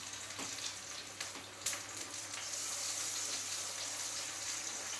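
Potatoes laid into a pan of melted butter give a close, steady sizzle with crackles and pops that grows fuller over about five seconds.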